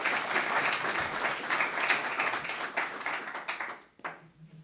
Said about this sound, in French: Oui, voilà, applaudissements.